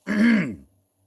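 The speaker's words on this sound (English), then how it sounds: "I had to clear my throat" A single close, gruff throat clearing, short and voiced, followed by silence.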